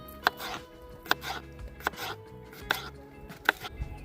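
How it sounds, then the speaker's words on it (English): Knife chopping potatoes on a cutting board outdoors at a riverside campsite, five crisp, evenly spaced cuts, close and fairly quiet, with no talking. "As soon as I start to cut up my potatoes"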